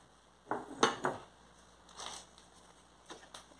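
A spoon clinks and scrapes against a bowl while apple-banana bread batter made with milk and oil is stirred, several close knocks bunched near the start, then softer scattered taps.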